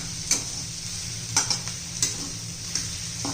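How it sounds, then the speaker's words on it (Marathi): A potato thecha mixture with fenugreek stalks frying in a pan is stirred, four distinct metallic spoon clinks and scrapes over a continuous soft sizzle and low hum, close, with no voices. "आता एखादा मिनिटभर हलवून घ्यायचं"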